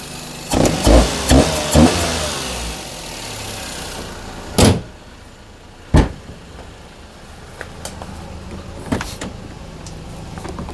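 An Opel Astra awaiting a timing belt change pulls into a garage: engine noise and several sharp clunks early on, followed by two loud door slams and a few quieter knocks as the engine fades.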